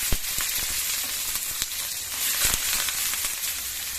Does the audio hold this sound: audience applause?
no